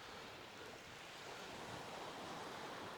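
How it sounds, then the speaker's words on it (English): Sea waves run on the shingle of Chesil Beach in July around low water, a steady, full rush of surf with wind noise throughout and no voices. "the sea's running good now. There's a lot of movement in the water."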